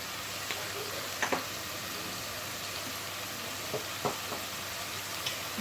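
Onion and garlic frying softly in a pan, a low steady sizzle with a few faint clicks of stirring, no voices.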